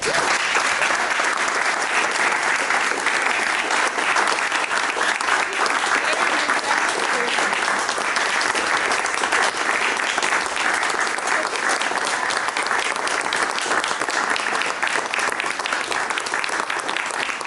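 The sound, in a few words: audience applause after a talk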